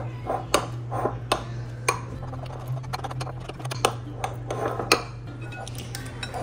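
A spoon clinks and taps repeatedly against a bowl while condensed milk is stirred into an avocado ice cream mixture, a close, irregular series of sharp metallic knocks over a low steady hum.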